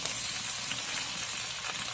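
Tomatoes sautéing in a hot pan give a steady, close sizzle with soft crackle throughout, and no voices are heard.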